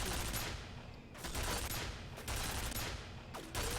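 Video game turret fire: sustained rapid bursts of gunshots, loud and close, with brief lulls between volleys and no talking.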